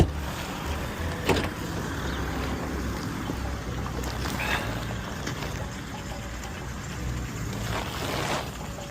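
A small French microcar, a voiture sans permis, drives past outdoors in wind, its steady engine whir and road noise continuous over the whole stretch with a slight swell near the end, no one speaking.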